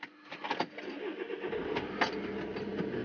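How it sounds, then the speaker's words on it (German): Car engine running as the vehicle pulls out of a garage, a steady mid-pitched hum with a few brief knocks and bumps, fairly quiet and unaccompanied by speech. "So, jetzt fahren wir mal aus der Garage hinaus."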